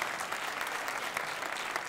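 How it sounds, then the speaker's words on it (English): Applause at a public city budget engagement forum, with a dense, even wash of clapping from a sizable crowd and no talk over it. "give him a round of applause"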